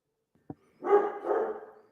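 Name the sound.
dog barking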